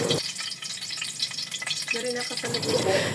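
Garlic frying in hot cooking oil gives a steady, bright sizzle and hiss, with clinks and scrapes of stirring across it.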